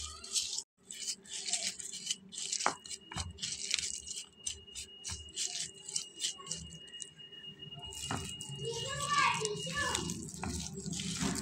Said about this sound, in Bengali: আমি যখনই ভিডিও করতে আসি আমার ছোট ছেলেটা ভীষণ চিল্লাচিল্লি করে